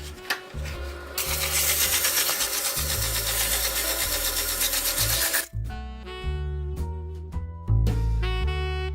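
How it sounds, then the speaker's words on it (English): A found pine wood Christmas ornament is sanded while spinning, giving a loud continuous rasping hiss over a motor hum that drops out midway and returns with lighter strokes. "Got to do a little bit more sanding right up here."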